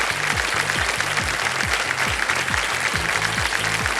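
Studio audience on a televised quiz show claps steadily and loudly in a continuous wash of applause, with a repeating musical sting underneath.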